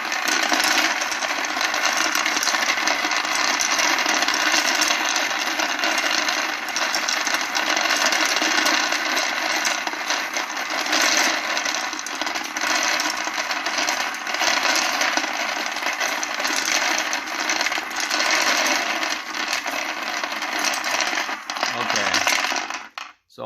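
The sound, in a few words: Hornady LNL progress press case feeder running, loading 9mm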